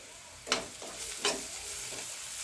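Egg thokku with rock salt sautés in a pan, a quiet steady sizzle broken by two sharper scraping stirs of the spoon, and a softer third one near the end.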